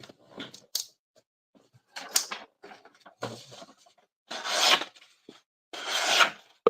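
A very sharp full flat grind knife slices through material during a first cut test, with several rasping strokes up close and short pauses between them, and no speech.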